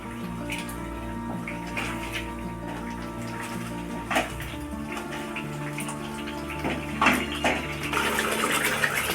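Water poured into cashew paste in a pan while cooking a paneer malai kofta: a continuous splashy trickle with a few clinks and stirring knocks, and a louder wash of liquid toward the end.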